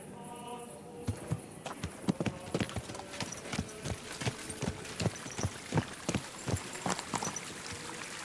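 Horse hooves clip-clop at a steady walking pace in the video game Kingdom Come: Deliverance 2, clear and fairly close, with a quiet ambient backdrop.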